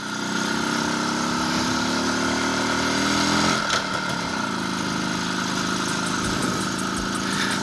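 An IZh Planeta 5 motorcycle engine pulls up a hill in second gear with light throttle, a loud, steady, close droning hum with a slight pitch shift midway and no talking.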